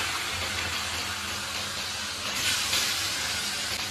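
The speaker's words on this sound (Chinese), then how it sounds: "把鸡肉下锅。" Chicken pieces hit hot pork lard in a wok with scallion and ginger for a Northeastern Chinese jar-style chicken, giving a loud, steady hiss and sizzle that swells slightly partway through.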